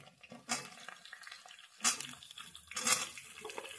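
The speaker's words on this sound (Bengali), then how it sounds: "বেগুনটা দিয়েও আমি 1 থেকে 2 মিনিট ভালোভাবে ভেজে নেব।" Potatoes and eggplant fry in a pan with a quiet sizzle, broken by three louder bursts of stirring and scraping.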